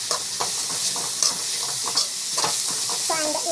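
Spices sizzle and fry in a pan while being stirred, with steady hissing and a few sharp scrapes and clatters of the spoon, close and fairly loud, with no talk over it.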